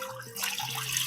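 Chicken broth poured from a container into a crock pot, a short steady liquid gush that starts after a brief pause and continues at close range.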